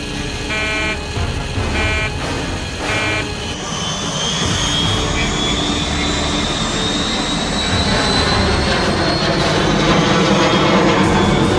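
Airplane in The Sims 3 video game: a loud, steady jet engine roar that grows and whines higher over several seconds, with a few brief electronic beeps early on.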